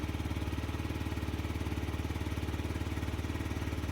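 A 2018 Yamaha Zuma 50 scooter engine runs at a steady, fast-puttering idle right after starting, close and even in rhythm with no voices.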